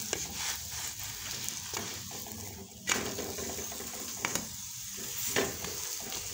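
A layered lachha paratha roasts on a hot pan, giving a steady close sizzle with occasional scraping and turning clicks throughout.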